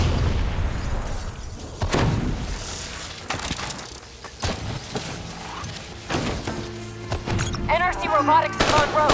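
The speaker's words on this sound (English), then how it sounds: "Robots compromised. Taylor's controlling them." Hijacked robots detonating during a Call of Duty: Black Ops 3 campaign battle, with repeated heavy booms and bursts of gunfire scattered across the scene, under intermittent voices and a musical score.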